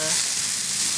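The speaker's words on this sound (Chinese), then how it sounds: "然后咱们要煎鸡蛋" An egg frying in oil in a pan, a bright continuous sizzle that is close and steady throughout, with no talk.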